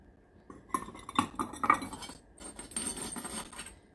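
Ceramic bowls clink and chink against each other as they are unloaded from a kiln, a quick run of bright knocks followed by a softer cluster of rattling contacts, close and without voices.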